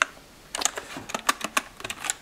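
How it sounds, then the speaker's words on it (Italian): Keys on a ROCCAT Vulcan 121 AIMO keyboard with a brushed aluminium plate click in a quick, irregular run of crisp, close presses after a brief quiet start. "questi tasti, che sono, come possiamo vedere, abbastanza decisi nei loro click"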